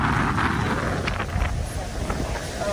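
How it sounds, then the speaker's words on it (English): Gusty wind buffets the microphone in a constant, rough roar, loud and close throughout. "it's a little windy, so I hope you guys gonna be able to listen."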